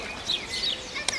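Small birds chirp by a pond where tiny crucian carp swim, giving a few brief, fairly close tweets over a steady outdoor background hiss.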